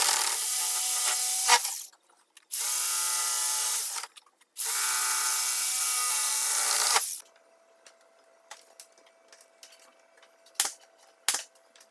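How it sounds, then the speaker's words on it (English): Jigsaw cutting through wood molding in two sustained bursts with a short pause between, loud and close, followed by quiet clicks and light handling knocks. "I'm going to use a jigsaw to cut that out to the shape I need"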